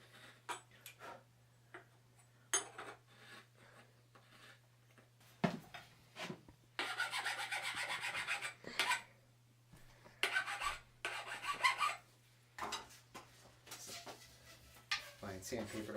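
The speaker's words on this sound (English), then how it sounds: "Fine sandpaper to polish it up." Fine sandpaper polishes a mountain bike fork part in bursts of close, gritty rubbing strokes separated by quiet pauses, over a low steady background hum.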